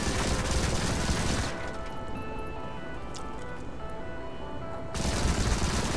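Gunfire from the player's weapon in the Modern Combat 5 campaign, a dense, continuous rattle of shots over about a second and a half, then a quieter stretch, with another burst of rapid fire near the end.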